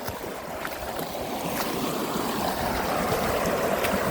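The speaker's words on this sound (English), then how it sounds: "A fair bit of water coming down the hill." A swollen creek running high after rain rushes down a hillside in a steady, broad roar of flowing water that builds slightly louder as it continues, close by with no talking.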